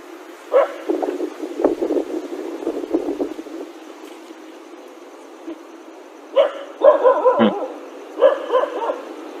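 A dog barking oddly outdoors: a few scattered yips and barks at moderate distance, then a tighter cluster of sharp barks toward the end, over a constant low background hiss.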